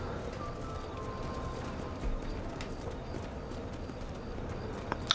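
Horses ridden at an easy pace in the Red Dead Redemption western game, with steady soft hoof clip-clop and bird calls across a dense outdoor ambience, under light game background sound.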